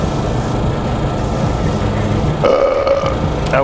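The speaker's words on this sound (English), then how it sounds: "I'm just waiting for this burp to come out because I'm going to feel a million times better." A single deep burp from a man after eating a huge food-truck meal of fries and chicken, rising out of a low rumbling background near the end.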